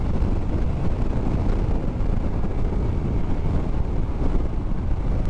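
Steady broadband wind roar buffeting the microphone while riding a Honda ADV 160 scooter into a headwind, continuous and loud throughout with no talking.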